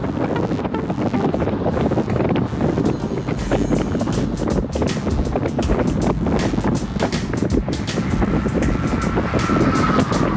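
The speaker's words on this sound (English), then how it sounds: "There's a bunch of gusts of wind." Loud, continuous wind roaring and buffeting against the microphone in strong gusts while cycling at speed, with no voices.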